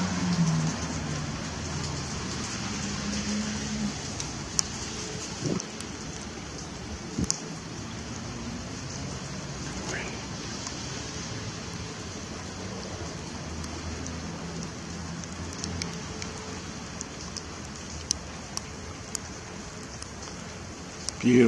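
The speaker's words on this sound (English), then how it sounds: "You know, it's raining out." Steady rain patters outdoors by the Detroit River, a continuous soft hiss with scattered drop ticks and occasional louder knocks, faint and distant, with a few quiet voices.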